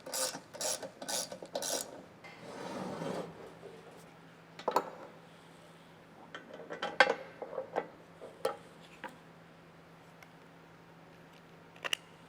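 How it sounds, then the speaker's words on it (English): A 7/16 wrench snugging up saw clamp bolts on a Split-Fire Buck-It Lite, with brisk ratcheting and scraping at the start, then scattered faint clicks and metal taps through a quiet stretch. "Take your 7/16 and you can tighten these up."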